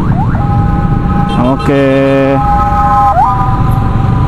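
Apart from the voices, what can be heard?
ambulance siren passing in traffic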